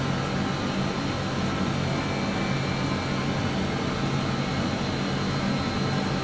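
Avro RJ jet engines roar in a flight simulator, set to climb thrust: a dense, steady, broadband whine and rumble that holds constant throughout, with no talk.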